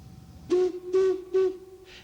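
A steam train whistle sounds in three short blasts and then begins a fourth, steady and fairly loud, with a faint rumble underneath.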